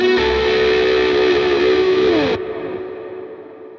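Slide guitar run through a Line 6 HX Stomp with distortion and chorus-style effects, a sustained gliding phrase that cuts off sharply partway, leaving a fading effects tail.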